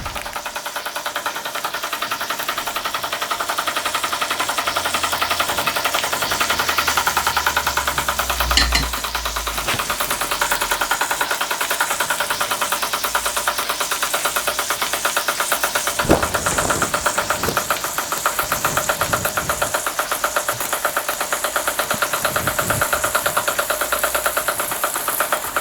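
A Microcosm M81 micro beam model steam engine runs with a continuous rapid mechanical clatter and knocking, close and steady, with a few louder thumps partway through.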